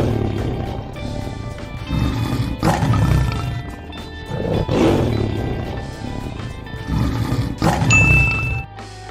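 A tiger lets out a series of loud, deep, drawn-out roars, about four of them spaced evenly, each swelling and then fading with a rumbling growl.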